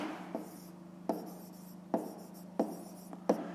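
Someone writes by hand while working a fifth-grade math exercise, making close, soft scratching strokes marked by five distinct taps spaced roughly evenly apart, with no speech over it.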